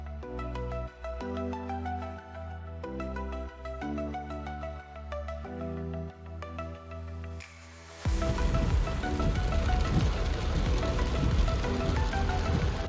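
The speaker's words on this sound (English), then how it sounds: "it's raining cats and dogs, so we're not getting out of the vehicle too much" Heavy rain begins to drum on a vehicle on Iceland's F208 highland road near a canyon. The dense hiss and patter start abruptly midway, after a stretch of melodic music, and continue loud to the end.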